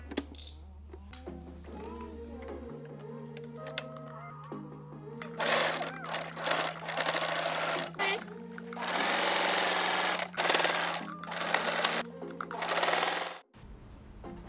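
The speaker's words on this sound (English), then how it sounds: "I'm just going to get to sewing the dress." A Nigerian tailor's sewing machine stitches a dress with a steady, close, mechanical whirr that changes pitch as the speed shifts, with some handling clatter, then stops abruptly near the end.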